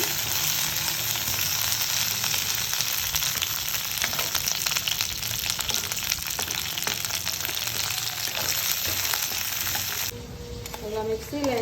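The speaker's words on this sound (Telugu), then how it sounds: "అది కాగాక దొండకాయలు వేసుకోవాలి." Ivy gourds (dondakaya) frying in hot oil, a dense loud sizzling hiss that holds steady, then briefly softens and shifts near the end.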